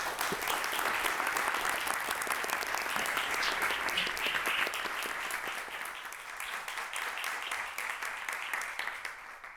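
Sustained, dense applause from a lecture-hall audience at Oxford's Provost's Lecture 2025 on climate action, steady and loud for several seconds, then thinning slightly toward the end.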